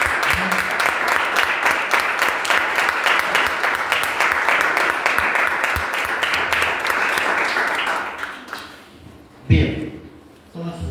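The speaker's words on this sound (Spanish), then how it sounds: "Den un fuerte aplauso al creíble." A church congregation gives sustained, dense applause at a Spanish-language service, loud and steady for about eight seconds before it fades out. A brief thump follows.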